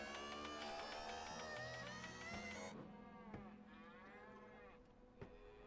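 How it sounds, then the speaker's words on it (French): Cows in the Scrap Mechanic survival video game moo in long, drawn-out calls, several overlapping, over a steady background hum with a couple of brief thuds. "Ah, ils sont en train de buter des vaches."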